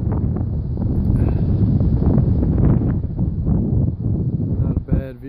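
Strong wind gusts and buffets across an oceanfront rooftop on the 8th floor, beside a Toshiba/Carrier VRF system's outdoor units. The roar is loud and continuous, dipping briefly near the end.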